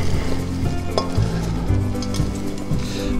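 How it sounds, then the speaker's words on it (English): Roughly chopped garlic and meat are stirred in a hot pan, giving a steady close sizzle with brief scraping stirs, over a low tonal background hum. "Mix this up."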